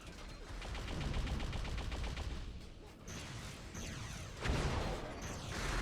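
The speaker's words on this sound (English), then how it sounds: "big rockets coming in" Rockets are fired in Unreal Tournament during a competitive match, heard as a dense, loud barrage of rapid weapon fire and blasts, with a sharper burst near the end, and little talk over it.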